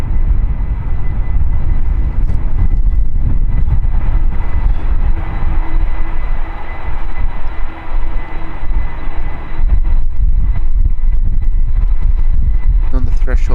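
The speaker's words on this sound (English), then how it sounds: "Here, one of the many A330s we have already seen from Delta." A Delta Airbus A330 jet at Amsterdam Schiphol Airport gives a low, rumbling engine drone that runs steadily beneath someone talking close by.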